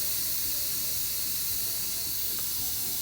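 Steam hissing steadily from an Instant Pot pressure cooker venting after cooking seasoned rice and vegetables, a continuous broadband spray close by with no speech.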